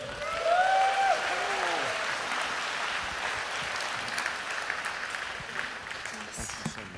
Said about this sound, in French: Veuillez applaudir Michael Foucault.